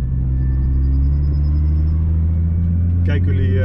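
Car engine idling with a heavy low rumble on a road in Zuid-Limburg, steady throughout, with a brief higher mechanical flare near the end; no rising rev sweep is clearly shown.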